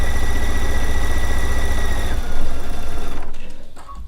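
A sewing machine runs a straight stitch along quilt binding, its needle hammering in a rapid steady rhythm, loud and close, then slowing and winding down to a stop.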